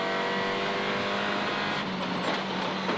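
A Citroën WRC rally car racing across a dam on a tarmac stage of the Bulgaria rally, its engine holding a loud, steady high drone with a rising whine near the end, heard up close and continuous.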